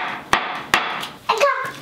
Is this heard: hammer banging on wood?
yes